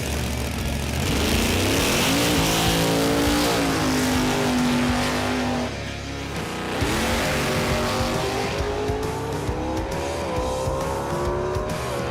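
Drag racing cars at a heads-up race at Red CentreNATS roar down the strip, engines revving loudly through rising gear changes in a continuous, powerful blare with a brief dip between shifts.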